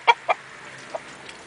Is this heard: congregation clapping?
no